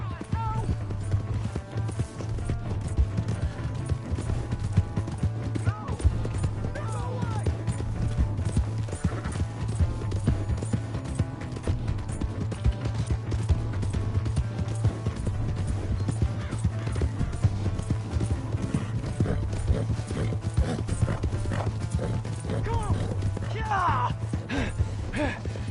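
A horse gallops in Red Dead Redemption 2, producing a steady, rhythmic clip-clop of hooves at moderate level over a low hum, with voices shouting during the ride.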